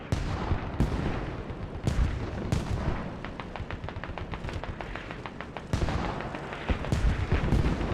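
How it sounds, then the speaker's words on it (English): Mortar shells pound a village in a military video game: a run of heavy booming impacts at uneven intervals, mixed with rapid sharp cracks of small-arms fire, moderately loud and continuous, with no talking. "Mortars just pounding that village here"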